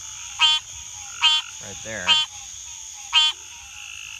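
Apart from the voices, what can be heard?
green tree frogs calling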